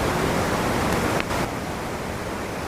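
Constant rushing water noise sits behind a wireless lavalier mic recording as a loud, steady broadband hiss, briefly shifting near the middle and then continuing slightly quieter to the end.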